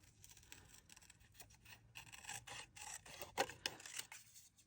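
Scissors fussy cutting paper for a junk journal, with quiet, close snips and rustling paper in short irregular bursts.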